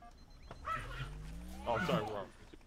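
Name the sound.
dog barking and fighting in the background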